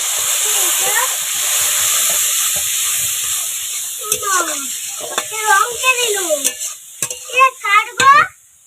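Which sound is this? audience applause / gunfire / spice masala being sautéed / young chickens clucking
spice masala being sautéed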